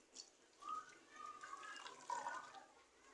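Water added to a cooking pot of green peas in potato sauce, a quiet, close trickle and splash with rising bubbly tones as the liquid fills, soft and without talk.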